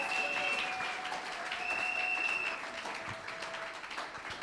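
A church congregation applauds during a Sunday service, with dense, sustained clapping from a full room that holds steady and tapers only slightly.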